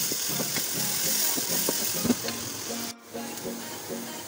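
Onions with garlic ginger paste fry in a pan, a steady soft sizzle with faint scraping stirs and a brief dip near the end, heard close and alone.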